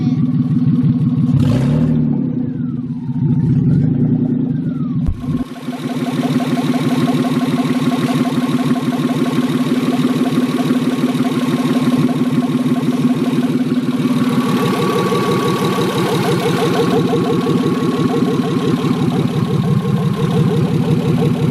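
A car engine idles loud and close after its first start, with a rough, clattery turnover in the opening seconds before it settles into a steady, even rumble that holds to the end.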